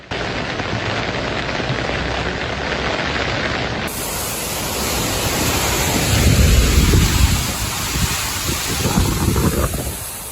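Heavy typhoon rain pours in Zhejiang while strong wind roars, a loud, constant wash of noise that swells with deeper gusts partway through, with no voices.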